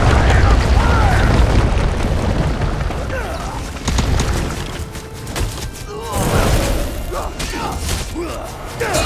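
A fire explosion spell goes off in Elder Scrolls Online, loud booming bursts and rumbling blasts layered over game effects and music, with a few distinct surges throughout.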